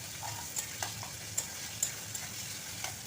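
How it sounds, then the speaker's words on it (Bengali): Chopped tomatoes and onions fry with ginger, garlic and spices in a pan for Indian egg tadka, giving a steady soft sizzle with light stirring scrapes and a few clicks of a spoon, no talking. "টমেটো কুচিগুলোকেও ভেজে নেব একসঙ্গে সমস্ত মশলার সঙ্গে"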